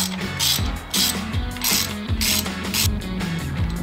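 Clutch basket bolts being tightened with a ratchet during a clutch basket rebuild, a steady run of close, loud mechanical clicking strokes repeating roughly every half second.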